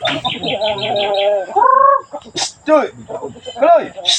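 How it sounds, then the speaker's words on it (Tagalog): Chickens cluck and a rooster-like call rises among them, with busy chirping and squawks close by, loud and continuous. "itinatawag ko na nga ang aking mga manok"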